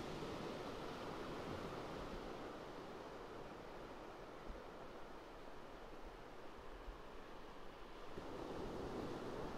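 Calm ocean waves wash in a soft, steady surf on a nearly windless day, heard faintly as a continuous rushing hush.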